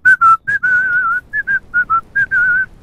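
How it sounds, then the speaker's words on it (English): Someone whistles a short, bright melody up close in the video game Ranch Simulator, in quick separate notes with a few held tones, alone with no talking. "I'm whistling a tune of profit"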